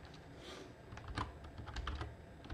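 Keystrokes on a computer keyboard, typed on a Manjaro Linux machine while entering a terminal command: a quick, uneven run of close, crisp clicks, with a brief burst near the middle and another toward the end, with no voices.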